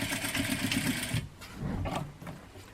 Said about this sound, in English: I'm going to do a nice little top stitch right here.